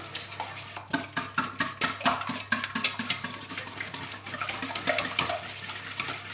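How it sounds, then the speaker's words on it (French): Whole eggs and egg whites for a lemon tart filling are whisked in a bowl, giving a rapid, close series of sloshing taps and scrapes against the sides. "Et je viens mélanger tout ceci"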